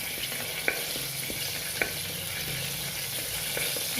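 Star anise, fennel seed, cloves and a dried red chilli sizzle quietly in hot oil for a chicken curry, a soft steady fry with a couple of sharp pops or spoon taps.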